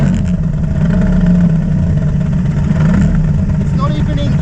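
Allison GT20 ski boat engine running loud and close, a dense steady low rumble with slight swells in revving and no clean idle, continuous throughout with no talk audible over it.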